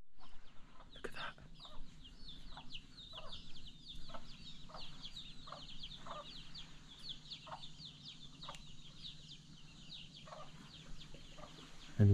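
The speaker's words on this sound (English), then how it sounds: "Chicken with its chicks as well." A big hen and her chicks in the Philippines: the hen gives a steady series of soft, regular clucks while the chicks peep in quick, thin bursts above her, all fairly close.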